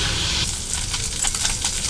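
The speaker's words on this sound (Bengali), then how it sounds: "এবার মাছগুলো আমি ভালো করে ভেজে নেব।" Small fish frying in mustard oil in a wok make a steady, moderately loud hiss and sizzle with scattered light crackles, close up and with no voices.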